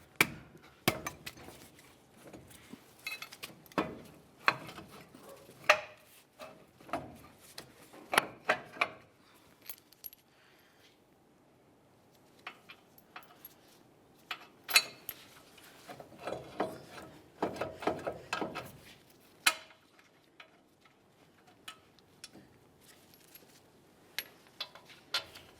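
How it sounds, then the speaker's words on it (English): Threading 21mm-headed brake caliper mounting bolts by hand on a 2005-2010 Dodge Dakota front hub, sparse close metallic clicks, scrapes and ratcheting taps in bursts with quiet gaps between. "align our two mounting bolt holes, and start in each of those 21mm headed bolts"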